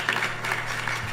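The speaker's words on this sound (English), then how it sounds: "Please give her a round of applause." A temple congregation applauds at a Krishna Mandir Mother's Day service, giving a brief, steady wash of many hands clapping together at moderate loudness.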